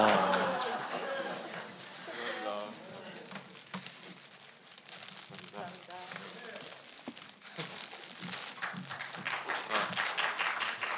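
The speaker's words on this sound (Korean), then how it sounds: "큰 박수 부탁드립니다." Applause at a film awards ceremony as a best actor winner is announced, clapping rising and falling over about eleven seconds while a presenter's voice and crowd murmur run through it.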